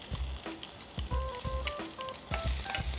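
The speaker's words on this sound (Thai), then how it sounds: "ผัดทุกอย่างให้หอมดีนะครับ" Fingerroot, garlic, lemongrass, shallots and chili sizzle loudly while being stir-fried in a hot pan, with repeated scraping strokes of a utensil and a steady crackle underneath throughout.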